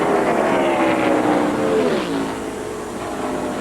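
NASCAR stock cars racing in the 2001 NAPA 500, a loud continuous engine roar whose pitch sweeps downward as the pack passes, then settles into a steadier, slightly quieter drone.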